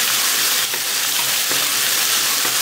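Tomatoes and onions sauté in a pan for a chicken 65 biryani, a continuous loud frying sizzle with faint stirring scrapes close by.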